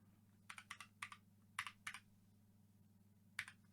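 Individual key presses on a GMMK TKL mechanical keyboard, sharp clicky strikes in small irregular clusters with gaps between, close and crisp over a low steady hum.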